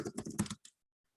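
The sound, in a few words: typing on a computer keyboard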